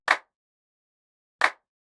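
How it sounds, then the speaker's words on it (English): Two short, crisp wide clap drum sample hits for boom bap drums, well spaced apart, each a bright snappy burst with a quick decay and silence between. "I instead found a wide clap sample."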